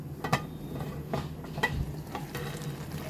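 Curry cooking in a pan: soft steady sizzling with a few sharp scraping stirs and utensil taps, close and fairly quiet.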